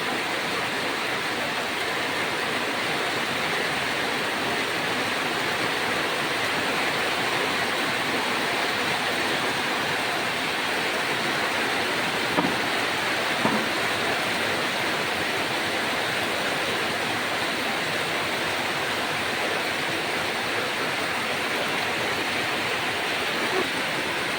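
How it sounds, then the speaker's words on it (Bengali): Heavy, unusually intense midday rain pours down steadily in a constant, dense hiss that holds at the same loud level for the whole stretch, with no voices over it. "এই যে দেখুন অস্বাভাবিক বৃষ্টি হচ্ছে"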